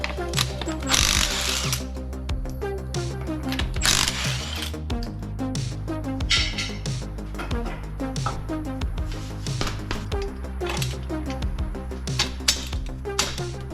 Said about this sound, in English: we're just gonna go ahead and get after this and roll this fender